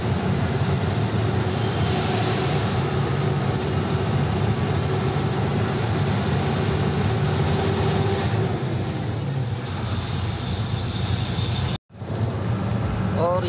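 A tractor grinds uphill on a mountain road near Subathu in Himachal Pradesh, its engine a steady loud drone blended with road and wind noise as a vehicle follows closely behind.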